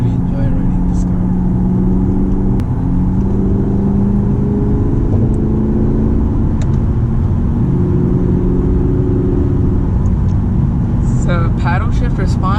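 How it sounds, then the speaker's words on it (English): A Lexus GS F sports sedan engine hums and revs steadily at close range, its low drone rising and falling while a voice talks over it. "Beautiful engine noise and everything, and it runs amazing."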